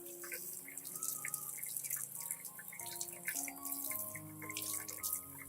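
Clean water splashes and drips while an orchid plant is rinsed after root pruning, a quiet, continuous patter of running water with scattered droplet plinks, close by and with no talk.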